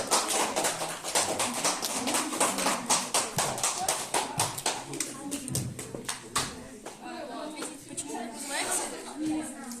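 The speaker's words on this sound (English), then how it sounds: "Let's applaud." Audience applause at a school literary gathering, a steady patter of many hands clapping that thins and fades toward the end.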